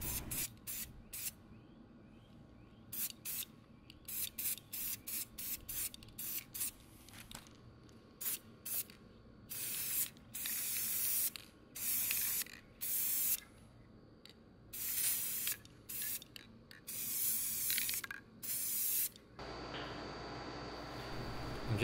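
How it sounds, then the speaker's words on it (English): Repeated short bursts of Krylon aerosol spray paint hissing close by while painting dresser hardware, some quick and some held longer, separated by brief pauses. "Krylon spray paint for the hardware."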